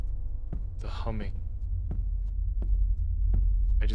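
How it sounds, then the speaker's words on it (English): A steady low bass hum and rumble drones in a video game arcade at night, constant and unnerving, with a few faint clicks and brief soft noises over it and no talking. "I just hear this low bass rumble hum type thing, and it's unnerving"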